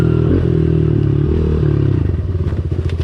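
A Honda CRF 110 dirt bike rides off-road on a motocross-style track, its small engine droning steadily and close, then chopping into a rough, pulsing rhythm as the bike bounces over uneven ground, with rattles and clatter throughout.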